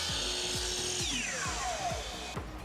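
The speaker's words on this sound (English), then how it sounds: "I can then flip the saw and make the corresponding cut for the other piece" A miter saw is near and motor-driven, with a steady whirring hum through most of the stretch and a falling whine as the blade spins down, cutting wood edging with no voice over it.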